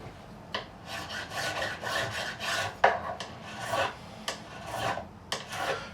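Metal file rasping in short repeated strokes along the fret edges of a PRS SE piezo guitar, close and steady with brief pauses between passes, no voices.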